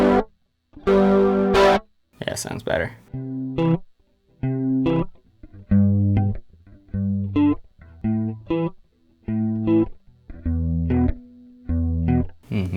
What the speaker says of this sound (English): Maybe we'll add a little chorus to this guitar sound.